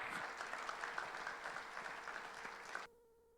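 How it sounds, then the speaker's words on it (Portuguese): Congregation applause during a church conference service, a steady wash of clapping from many hands that cuts off abruptly near the end. "aplauda o Senhor com as suas palmas"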